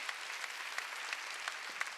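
A church congregation at a Wednesday worship service claps steadily throughout, a dense continuous patter of many hands at moderate level, with no talking over it.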